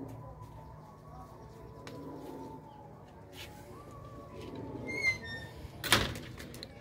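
Pigeons on a rooftop loft kept by a pigeon-flying club, giving soft, low coos at a distance, followed by a sharp knock and a brief clatter near the end.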